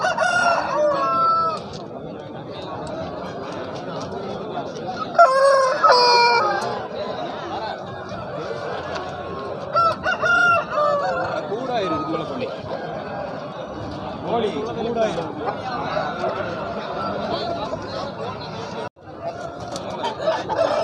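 Roosters crow now and then amid a busy, noisy crowd at a rooster market in Kavundapadi, India, with people talking and bargaining throughout.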